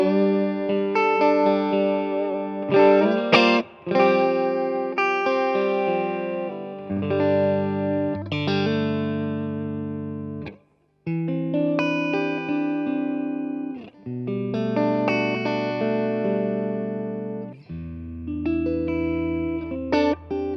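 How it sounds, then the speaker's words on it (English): A Marshall JCM900 Studio amp plays an electric guitar through its clean channel with built-in spring reverb: chords and single notes ring out warm and full, with reverb tails trailing between phrases and no talking. "So this is the clean channel with the spring reverb,"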